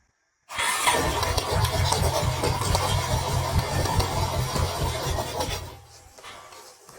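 Honda Rancher 350 ATV engine idling steadily after an oil change, a low, even rumble with rough mechanical clatter that runs for several seconds, then drops off and continues more faintly near the end.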